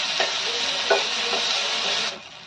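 Onion, tomato and paneer sizzle steadily in a pan while a spoon stirs through them, scraping a few times against the metal, before the frying noise drops away at the end.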